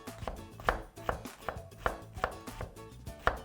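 A knife cuts eggplant into long strips about 0.5 cm thick on a cutting board, with about nine crisp, evenly spaced chops close up and no talking.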